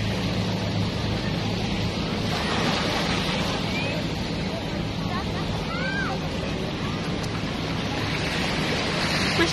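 Rough sea waves roll onto a powdery sand beach at an island in Surigao del Sur, a constant loud surf roar with wind buffeting, while a person speaks over it.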